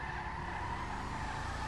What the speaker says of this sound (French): ça patine trop cette voiture